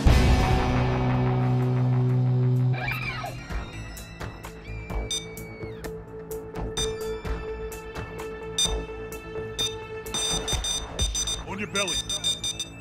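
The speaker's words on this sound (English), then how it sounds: "That's the alarm." A bank alarm blares during a heist in the video game Payday 2, a loud electronic tone under game music and gunfire-like clicks, while voices talk over it.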